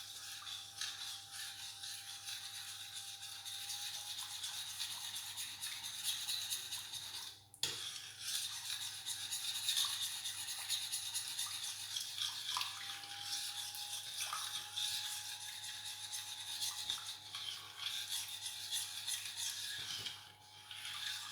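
A sauce being stirred in a pan, with a continuous scraping, rubbing texture near the mic, steady and fairly soft, briefly pausing twice, with no talking.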